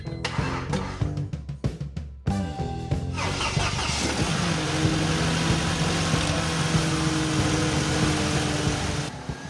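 A Mercedes-Benz W203 C230 engine cranks with a rapid stutter of starter clicks, catches and fires up, then settles into a steady, close idle hum.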